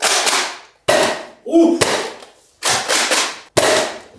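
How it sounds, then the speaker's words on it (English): A toy Nerf gun fires several sharp, close pops, spaced about a second apart, with one brief exclamation heard among the shots. "This is my favorite Nerf gun"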